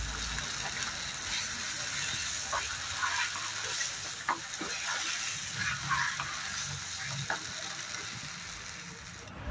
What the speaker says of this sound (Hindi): आप देख सकते हैं ग्रेवी ने उसको कढ़ाई को छोड़ना स्टार्ट कर दिया है, मतलब ग्रेवी पकना स्टार्ट हो गई है